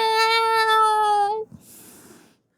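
A human voice imitating a cat's wail: one loud, drawn-out, tonal meowing cry that holds steady, then cuts off, followed by a short breathy tail.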